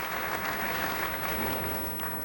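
Sustained applause from a large crowd at a tenpin bowling event at the Metrodome in Barnsley, dense, even clapping heard from a distance and continuing throughout.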